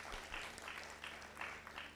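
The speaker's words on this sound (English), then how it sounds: "Please let's give Melvin another round of applause." Audience applause at a student council election event, faint and distant, with soft rhythmic clapping swelling in gentle pulses over low background hum.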